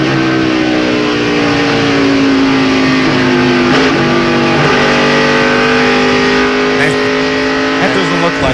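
Onboard NASCAR race car sound from the 2002 Pennsylvania 500, with a loud, steady engine drone that dips briefly as the car heads down into the corner and then pulls back up, close and continuous.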